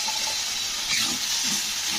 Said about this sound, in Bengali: তারপরে দিয়ে দেবো এতে সামান্য পরিমাণ জল।